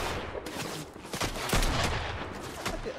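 Gunshots in the battle royale game Fortnite, including pistol fire, sounding as several sharp close cracks in quick succession over a busy, noisy background.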